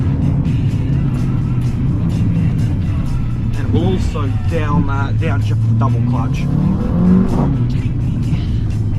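Tuned stage 1 Mercedes CLA 45 AMG with a double-clutch gearbox, its exhaust droning loudly and steadily from inside the cabin as it accelerates uphill, engine note rising and falling through shifts, with someone talking over it.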